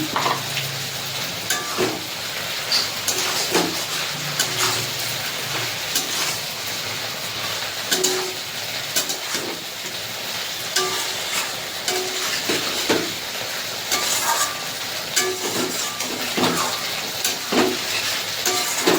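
Fried shrimp stirred in a pan with taro stolons, coconut, poppy seed and a little sugar, giving a steady broad sizzle with repeated scraping stir strokes throughout, close and fairly loud, no talking.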